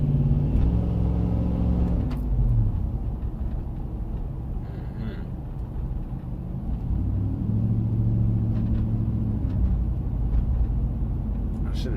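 A Nissan Titan truck with split Flowmaster dual exhaust rumbles as it drives, its low engine drone rising and settling in two revving swells under occasional talk.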